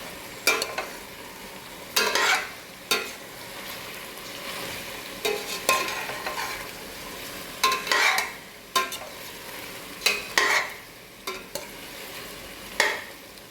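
Chicken feet being stirred in a frying pan with onion and tomato: a low sizzle under repeated loud scraping and clattering spatula strokes that come in bursts every second or two.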